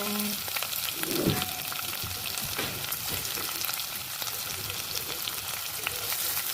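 Onion sizzles steadily in hot oil with cumin seeds and green chillies, a dense even crackle close by throughout, with a brief stir or clink near the start.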